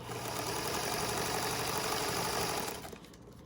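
Domestic sewing machine stitching a hospital gown seam, starting with a back stitch, whirring steadily and close for nearly three seconds before cutting off into quiet.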